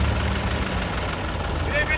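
A tractor engine idles at a farm field by a maize crop, a steady, loud, continuous low rumble with a rough mechanical texture that holds unchanged throughout.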